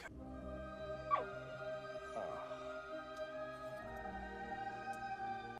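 A cartoon dog from the animated film Anastasia whimpers and yips softly, brief high whines over a sustained orchestral music bed, with no talking.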